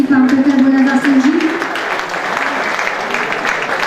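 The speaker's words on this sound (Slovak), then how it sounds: "Veľký potlesk" Audience applause at an awards evening, a dense steady wash of clapping filling the hall as a voice talks over the start.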